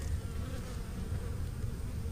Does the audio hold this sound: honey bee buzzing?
yes